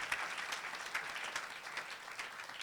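A church congregation claps together during a Saturday worship service, a steady run of soft, distant-sounding hand claps with faint crowd murmur and no speech.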